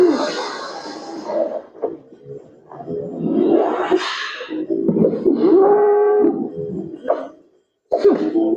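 A cow lowing repeatedly in long, moaning calls during a staged man-versus-cow fight, loud and close, with short pauses between the calls and some rough, throaty bursts.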